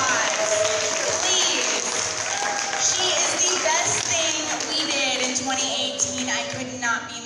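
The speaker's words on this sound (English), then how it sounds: "Let's give Diane a huge round of applause" An audience at a women's organization meeting applauding, dense clapping that fills the room and slowly tapers toward the end, with voices mixed in.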